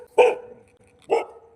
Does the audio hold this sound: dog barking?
yes